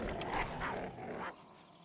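Snarling growls from a dog in the survival video game Fountain of Youth, several rough, close bursts in quick succession that fade out after about a second and a half.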